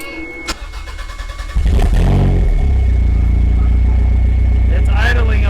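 A Toyota MR2 SW20 turbo engine cranks and catches, then settles into a loud, rough idle with a brief rev near the end, with people talking over it.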